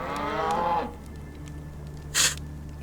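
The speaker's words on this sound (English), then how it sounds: "Nice cow" A cow in the video game ATOM RPG lets out one drawn-out moo that fades after about a second, followed by a brief breathy burst over a quiet, humming background.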